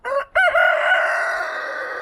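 A rooster crows nearby, a short clipped note followed by a long, drawn-out call that slowly fades; no other voices.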